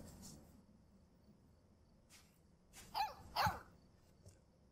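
A dog in Life Is Strange 2 gives a few scattered barks and yips over a quiet background, with two louder barks near the end and softer ones around them.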